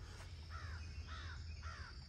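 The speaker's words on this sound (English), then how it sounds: "That's a cranky crow." A crow caws three times in a row, each harsh call spaced about half a second apart, heard outdoors on a short woodland hike over a steady low rumble of background noise.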